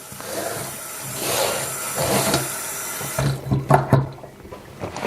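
Potatoes rinsed under a running kitchen tap, a steady splash of water with rubbing and a few louder knocks and sloshes as they are shaken, close by.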